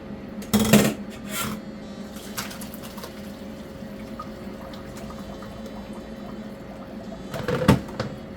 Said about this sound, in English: Then I'm going to strain this off.